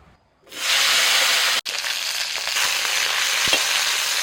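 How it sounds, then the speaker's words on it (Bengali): Okra dropped into hot oil in a wok bursts into a loud, close, continuous sizzle after a moment of quiet, with a brief break partway through. "আবারও কড়াই তেল দিয়েছি তেলটা গরম হয়ে গেছে এবার দিয়ে দিচ্ছি আমি ঢ্যাঁড়স"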